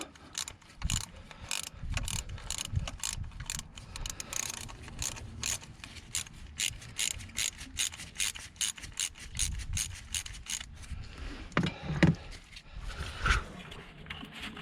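A wrench working a bolt loose on a 2003 Volvo XC90, rapid repeated ratcheting clicks and metallic scraping in bursts, close and moderately loud, with no talk.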